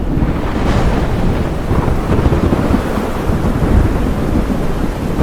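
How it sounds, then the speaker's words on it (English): A thunderstorm rolls over the savannah, loud rumbling thunder blending with a dense wash of rain and gusting wind that stays heavy and continuous throughout. "the rain the entire savannah has been waiting for has finally arrived"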